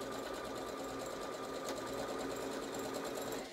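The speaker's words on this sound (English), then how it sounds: "my second line now becomes the guide for my third line of stitching" A sewing machine stitches quilting lines in a steady, rapid mechanical chatter, even and continuous at moderate volume with no talking.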